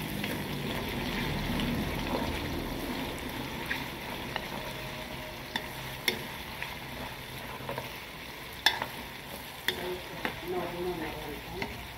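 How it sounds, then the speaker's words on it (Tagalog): Bamboo shoot adobo sizzles in a pan as it is stirred, a soft steady fry broken by scattered clicks and scrapes of the utensil against the pan, fairly quiet and without talk. "Ihahalo natin ito."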